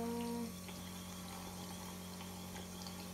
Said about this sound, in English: And then turn off the taps.